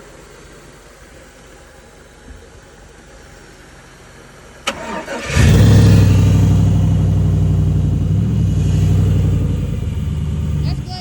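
A truck being started for the first time after a wreck: a few seconds of quiet, then a sharp crank that quickly catches into a loud, steady, rumbling idle held to the end, with a brief voice over it.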